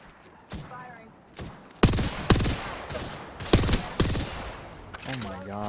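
Apex Legends gunfire cracks out in loud, separate bursts, several sharp shots spaced a second or so apart, with a voice briefly heard between them.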